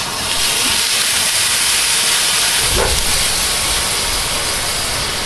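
Bananas are flambéed in a pan: a loud, steady roaring hiss of flame and steam with a low whoosh swelling partway through, close and continuous.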